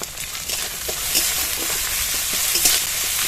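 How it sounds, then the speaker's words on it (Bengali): Spices fry in a hot pan with ginger-garlic paste, chopped tomato and salt, giving a steady close sizzle with crackling pops and occasional stirring scrapes. "লবণটা দিয়ে মশলাটা খানিকক্ষণ ভেজে নেব"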